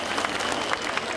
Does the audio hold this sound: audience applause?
yes